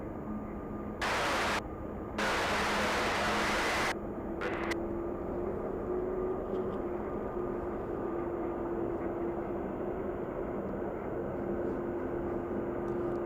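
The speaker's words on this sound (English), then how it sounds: "Ten planes on final approach." Steady, close broadband roar of airliners on final approach into Anchorage's Ted Stevens International Airport in freezing, turbulent weather, with two brief louder hiss bursts near the start before the sound settles into a continuous drone.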